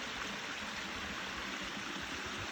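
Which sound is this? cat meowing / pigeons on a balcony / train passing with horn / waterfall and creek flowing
waterfall and creek flowing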